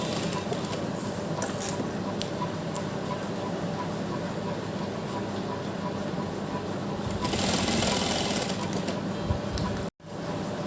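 Sewing machine running a long, continuous stitch down the centre of a fabric strip for a gota and lace neckline, a steady mechanical whirr at moderate level with a brief louder burst near the end.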